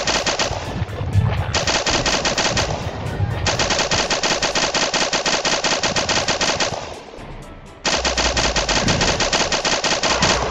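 MG-42 machine gun in a Roblox game fires long, loud, rapid bursts, with short pauses between strings of shots and a longer gap before the final burst.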